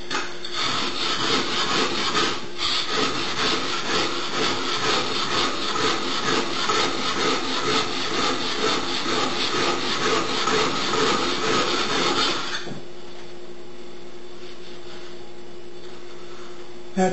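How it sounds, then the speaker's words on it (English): A steel blade edge is ground on a bench stone, giving a steady, close, continuous rasping scrape for about twelve seconds before stopping, leaving faint quiet room tone. "Gone through the edge, so we're grinding right through."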